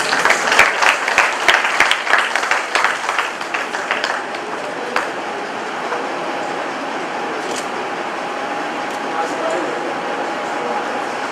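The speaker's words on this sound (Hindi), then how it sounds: "तालियां जोर से बजनी चाहिए।" Loud applause from an audience at an award ceremony during a Hindi fortnight celebration, dense rapid clapping for about five seconds that then thins out into a steady hall murmur.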